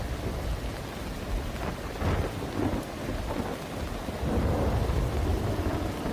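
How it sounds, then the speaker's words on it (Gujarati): Heavy monsoon rain pours steadily during a Gujarat downpour, a dense continuous roar with low rumbles of thunder rolling underneath, no voices. "ધોધમાર વરસાદ જોવા મળી રહ્યો છે"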